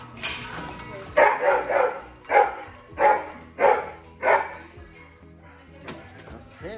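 Boarding dogs at a small doggie daycare bark in a series of about six loud, closely spaced barks, then fall quieter with a faint whimper near the end.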